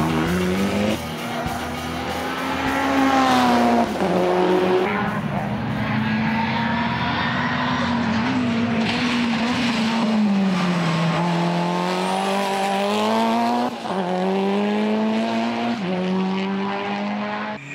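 Heavily modified race car from a tuning-parts maker lapping a circuit at full throttle, engine note rising and falling loudly and continuously through gear changes, with brief tire squeal and faint voices underneath.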